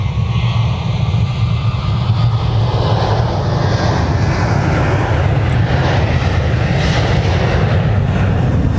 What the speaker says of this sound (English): Just need to wait for the Sun Country departure to pass us.